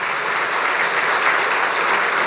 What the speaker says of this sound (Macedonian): еден аплауз молам и за нив.